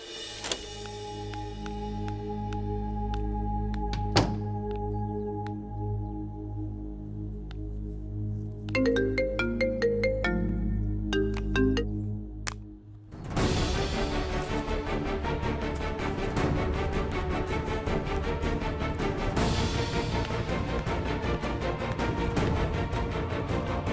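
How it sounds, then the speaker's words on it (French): A mobile phone ringtone plays for a long stretch, a melodic electronic tune of repeating notes that shifts into a fuller, busier passage partway through. "ton téléphone sonne"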